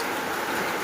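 Steady rain falling outdoors in a rural setting with cattle nearby, a dense, even hiss that holds unchanged through the short moment, with no voices over it.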